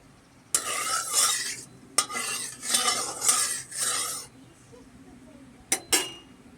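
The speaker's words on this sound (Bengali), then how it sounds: "সমস্ত মাছে লবণ হলুদ মাখিয়ে নিচ্ছি।" Hands rub salt and turmeric into pieces of Roopchand fish, making close, wet squishing bursts in repeated strokes, with a couple of sharp clinks near the end.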